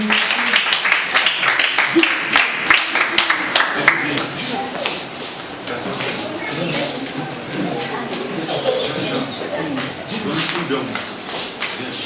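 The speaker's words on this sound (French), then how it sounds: "On va les acclamer." An audience applauds and cheers for children at a Christmas show, a dense wash of clapping that peaks early and then settles into steady, continuous applause with voices mixed in.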